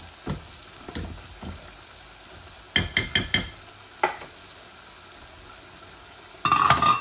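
Onions frying in a pan while a fish-roe dish is cooked, a quiet sizzle broken by scattered spoon scrapes and stirring clatters, with a louder burst of sizzling at the end.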